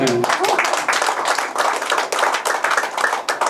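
An audience at a lecture claps together in a dense, continuous burst of many hands, loud and close throughout, with a voice heard briefly at the start.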